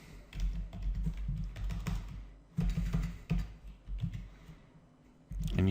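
Quick, clattering keystrokes on a computer keyboard come in uneven bursts with brief pauses, close-miked and fairly loud, with no voice.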